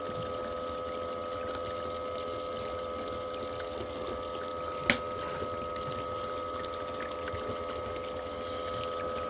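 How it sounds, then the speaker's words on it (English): Water runs continuously through a gold sluice box, a steady wash of noise with a constant pump-like hum and one sharp click midway, moderately loud with no talk. "They probably watched the sluice run enough that they'll get bored."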